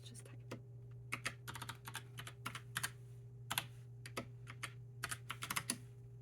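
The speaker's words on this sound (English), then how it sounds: "So here, I'll type a little something real quick. Let's just type." Typing on a Logitech Pop Keys mechanical keyboard, close up: bursts of crisp key clacks in irregular runs with short pauses, over a steady low electrical hum.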